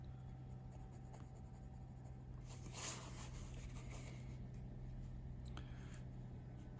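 A pencil sketches on paper for a graffiti piece, giving soft scratchy strokes close up, with a few brief louder scrapes over a low, steady background hum.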